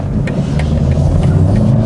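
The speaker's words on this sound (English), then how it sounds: "this is a sort of a run-of-the-mill 2-liter turbo engine. It delivers power so nice." A BMW 330i M Sport with a 2-liter turbo engine accelerates, its steady, loud mid-range drone filling the cabin with a continuous rumble and no voices.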